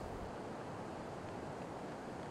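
Water pouring over a city weir on the Oldman River, a steady broadband rush, constant and moderately distant, with no other sounds.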